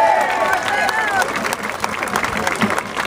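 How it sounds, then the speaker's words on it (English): Crowd applause with scattered cheers at a voter ID rally, loud and dense, with a whistle-like cheer early on and steady clapping filling the space for about three seconds. "Let's give my co-host a big round of applause in the red and white, Miss Marvetta Coleman."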